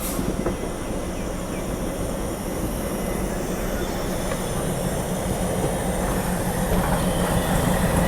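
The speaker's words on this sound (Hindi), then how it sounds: "वटवा शेड की एल्को की लिवरी यहाँ पे आप देखो, और एल्को लोकोमोटिव देखो।" An ALCO diesel locomotive in Vatva shed livery rolls past near Vadodara Junction, a loud, steady rumble of engine and wagons with clattering wheels on rails, continuous and close throughout.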